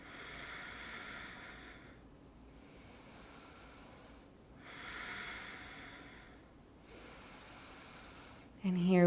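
Deep yoga breaths in a practice session, several slow, airy inhales and exhales in a steady rhythm, close and moderately loud, followed by a short bit of voice at the end.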